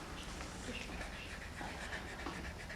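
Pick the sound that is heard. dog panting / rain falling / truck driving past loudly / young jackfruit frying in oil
dog panting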